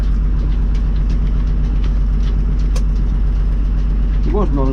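An old, cold marine diesel engine idles while warming up, a loud, close, steady low chugging throb that never lets up, with a brief higher mechanical whine near the end.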